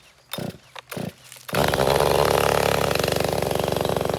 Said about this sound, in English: It's always fun to run some saws